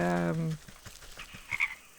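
Frogs croak in the swamp of the Wytchwood video game: one loud, low, buzzing croak opens, then softer scattered clicks and chirps follow, with no talking.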